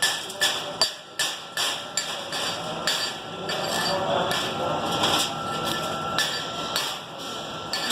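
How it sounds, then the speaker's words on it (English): A hammer chipping slag off a fresh stick weld on steel, a series of sharp metallic taps that come in quick succession early on, then give way to softer scraping and rubbing. "So now we gently hammer off the slag,"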